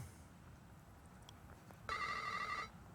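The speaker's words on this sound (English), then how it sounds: "Oh, don't you love those cell phones?" A cell phone ringtone chirps out in a short, bright electronic burst of about a second, moderately loud over a faint background hiss, with no talking.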